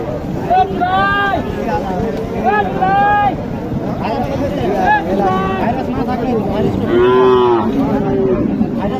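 Several cattle, Sahiwal and Gir heifers, moo loudly and repeatedly nearby at a cattle market in Naogaon, the calls overlapping with a busy crowd and people talking throughout.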